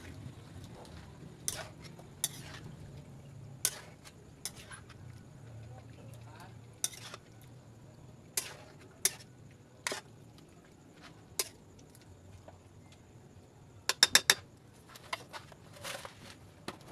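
Balunbalunan is being cooked in a pot and stirred, with faint, scattered metallic clinks and taps of a utensil on the pot over a low background hum and occasional quiet voices.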